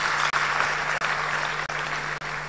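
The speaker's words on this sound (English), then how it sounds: "Let's give him a round of applause, please." Crowd applauding at a National Democratic Congress political launch event, steady dense clapping that continues loudly throughout with brief dips.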